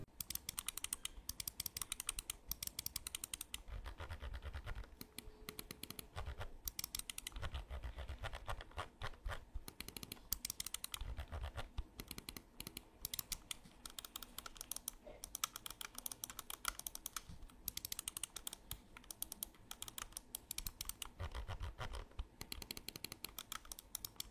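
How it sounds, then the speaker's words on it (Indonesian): A gaming mouse clicks its switches and turns its scroll wheel encoder in a rapid, dense run of small clicks and ticks, quiet and close with no talking. "Jadi untuk masalah switch dan juga scroll wheel encoder gue nggak ada komplain sama sekali, dan langsung aja kalian dengerin suaranya kayak gimana"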